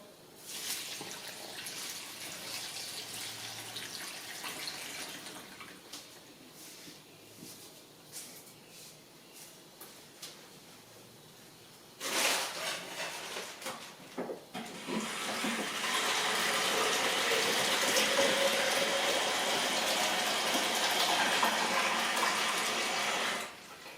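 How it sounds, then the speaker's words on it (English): Water pours steadily into a stock pot for chicken stock made from scraps, a running rush that fades to quieter trickling, then returns louder and fuller for the final stretch with no talk over it. "going to add 4 to 6 litres of water."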